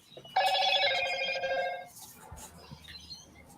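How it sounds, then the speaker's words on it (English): A telephone rings once with a bright trilling burst lasting over a second, faint and somewhat distant behind room noise during a livestream. "you got phone calls coming in there, do you?"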